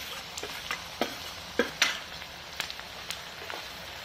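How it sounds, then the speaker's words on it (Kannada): Chopped onions and spices hitting hot oil in a pan for a mutton masala gravy, giving a soft steady sizzle with scattered crackles and pops, close and fairly quiet, with no talking. "ಸಣ್ಣದಾಗಿ ಹೆಚ್ಕೊಂಡಿರೋ 2 ಈರುಳ್ಳಿ ಹಾಕ್ತಾ ಇದ್ದೀನಿ."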